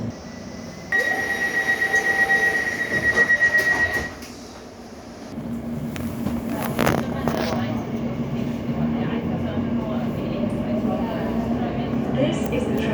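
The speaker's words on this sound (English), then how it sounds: "This is the train to Paddington." An Elizabeth line train near Woolwich station, a beeping chime and door sounds followed by a steady rolling rumble of the carriage in motion, with an announcement-like voice over the noise.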